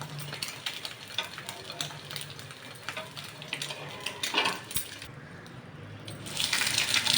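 Half-boiled egg frying in a pan, a soft crackling sizzle running steadily at close range, with a few scraping stirs and a brief louder hiss near the end.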